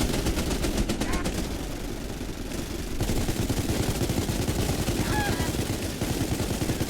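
Enemy gunfire in the space game SpaceBourne 2 rattles in rapid continuous bursts, dense and loud, with brief shifts in tone and occasional electronic chirps.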